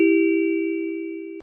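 A single house doorbell chime ringing in an indoor home setting, one clear sustained electronic tone that slowly fades over about a second and a half, alone with no voices.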